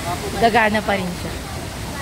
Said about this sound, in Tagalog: Dito po sa bagsakan ng tubig